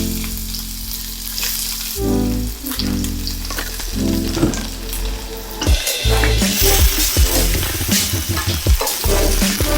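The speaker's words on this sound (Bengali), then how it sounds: "পেঁয়াজটা একটু ভেজে নেবো।" Chopped onion, half of two onions, sizzles loudly in hot oil in a wok, with stirring scrapes and bursts of crackle breaking through a steady, close frying hiss.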